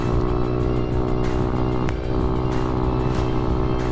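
ADV Moto 190R motorcycle ridden through turns at about 40 mph, giving a steady, close engine drone mixed with wind rush and no talking.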